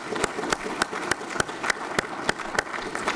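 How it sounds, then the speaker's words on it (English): Applause at a university ROTC commissioning ceremony, with a few sharp, evenly spaced claps standing out above a softer bed of crowd clapping and room noise. "So please give all of yourselves a round of applause here."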